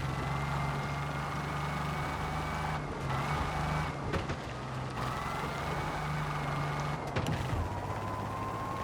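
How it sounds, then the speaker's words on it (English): Car engine humming steadily while driving at speed in Mafia: The Old Country during a lake-to-sea time trial, a continuous near drone with shifting pitch and a few brief clunks, no talk. "Yeah, this is a fairly decent quick car"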